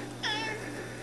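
A single cat meows once, clear and fairly close, over a steady low background hum.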